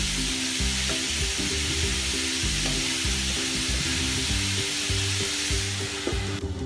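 Ground beef fries in a covered pan, a steady close sizzle with light crackle running continuously under faint background tones.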